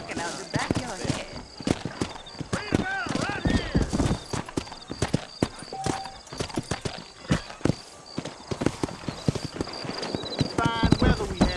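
A horse's hooves clip-clop in a steady trotting rhythm through the Red Dead Redemption video game, loud and close, with an occasional whinny while voices talk over the hoofbeats.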